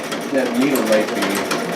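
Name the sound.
Singer sewing machine running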